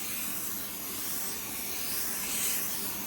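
Spray gun laying a fine drop coat of paint onto a bumper, a steady broad hiss of atomizing air held without a break at close range.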